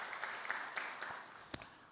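Congregation applause in a church service: a faint, steady wash of many hands clapping together, with a brief sharper burst near the end and no talking.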